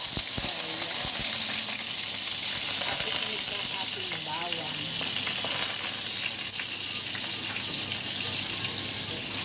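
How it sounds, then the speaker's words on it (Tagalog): Onions frying for a pork curry, a steady dense sizzle in a hot pan that holds continuously at close range with no talk. "Ilalagay naman natin ang ating sibuyas."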